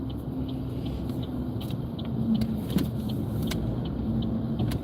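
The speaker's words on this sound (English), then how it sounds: "I'm now turning, so you can hear my signaling." Soft, regular ticking of a turn signal clicks along beneath the steady rumble of a car cabin on the move.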